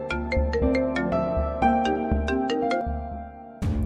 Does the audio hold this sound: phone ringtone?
yes